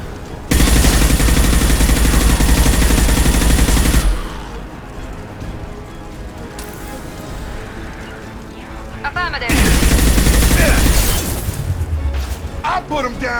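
Heavy automatic weapons fire and booms in Mass Effect Legendary Edition come in two loud sustained bursts separated by a quieter lull, with voices calling out during the combat.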